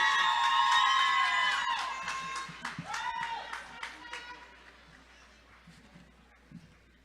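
At a city summer graduation ceremony in Springfield, the audience cheers and whoops loudly over fast clapping. The noise fades into scattered claps and shouts as it dies down.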